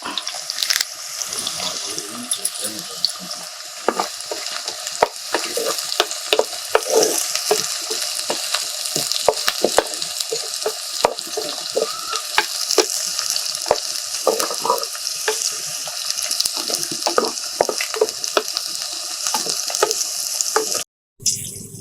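Green chillies and curry leaves frying in hot oil, a steady close sizzle and crackle with scattered pops lasting throughout, with no talking.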